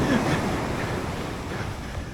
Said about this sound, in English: I can see waves breaking pretty much the whole way down.